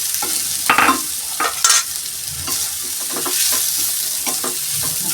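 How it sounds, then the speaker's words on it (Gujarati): Crushed green toor beans sauté in a pan, a steady close sizzle broken by several scraping stirs of a spoon through the mash, fairly loud with no voices. "હવે આપણે તુવેર ક્રશ કરેલી છે અને સાંતળી દઈશું"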